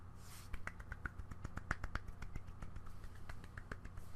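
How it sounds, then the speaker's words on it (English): A small, sparse golf clap, a series of soft, light claps at an uneven pace, faint and dry with no voices. "Golf clap."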